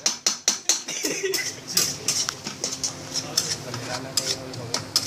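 Food for about 400 people is stirred in a large metal cooking pot, with loud rhythmic scraping strokes at first, then continuous close metallic clatter and scraping.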